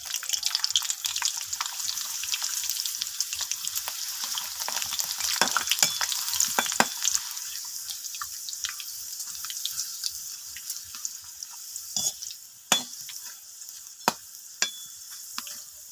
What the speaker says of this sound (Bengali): আমাদের তেল গরম হয়ে গেছে, আমরা হচ্ছে এই পিঠাগুলো এখন দিয়ে দেব।